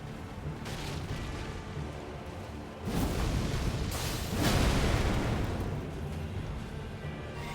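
Booming explosions in the video game Elden Ring, deep and heavy bursts layered over game noise, with a strong hit near three seconds and another around four and a half.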